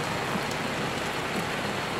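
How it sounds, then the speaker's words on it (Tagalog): Heavy rain pours down steadily, a dense, continuous hiss of drops on surfaces close by, with no voices over it. "Sheila, umuulan. Ang lakas ng ulan."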